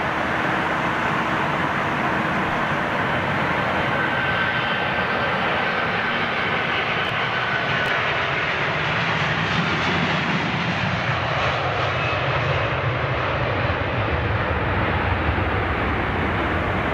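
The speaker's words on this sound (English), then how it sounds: "Nice big long spool up from this Virgin 330." A Virgin Atlantic Airbus A330 at an airport spools up its engines in a long, loud, broadband jet roar that holds steady and rises slightly in intensity throughout, with no voices.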